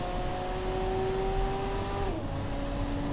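A car engine in a driving video game holds a steady tone under load, then drops pitch at a gear change before pulling again, continuous and close with no talking.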